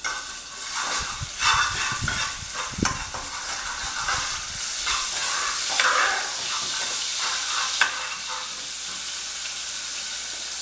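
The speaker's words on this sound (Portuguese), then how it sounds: "Aí eu vou deixar ele fritar aqui um pouquinho." Garlic sizzles in hot oil in a pan as the base for rice, a steady bright frying hiss with occasional stirring scrapes and small pops, close and continuous with no talking.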